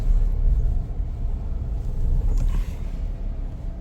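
A Tata Punch car rolls into a Tata service center with a low, steady engine rumble close by, the drone holding level throughout with a brief lighter scrape near the end.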